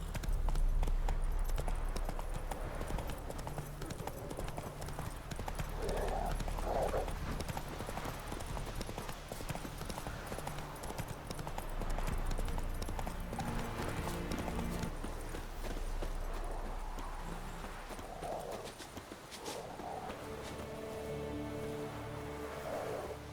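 Roach the horse gallops in Witcher 3, a continuous rhythmic clip-clop of hooves with soft rain and ambient game sound behind it, steady and close throughout.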